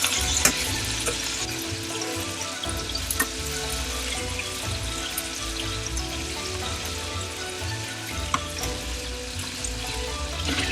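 Hot dried chili pods frying in oil in a pan for Chinese red braised pork belly, a dense steady sizzle and crackle with small sharp pops, close up.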